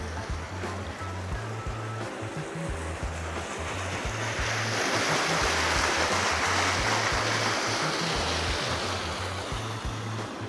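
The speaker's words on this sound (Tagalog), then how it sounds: "Lakas ng tubig, oh." Strong water rushes continuously on a farm lot property, a broad, steady roar with a low rhythmic throb underneath that swells slightly midway.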